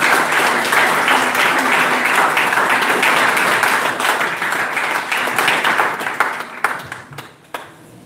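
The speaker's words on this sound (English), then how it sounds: "Let's give them a big round of applause." An audience at a 2018 Law Day debate gives the teams loud, full applause that holds steady, then thins out near the end into a few scattered last claps.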